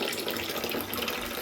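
A tap runs strongly into a sink, a steady, close rush and splash of water that holds constant throughout with no voices.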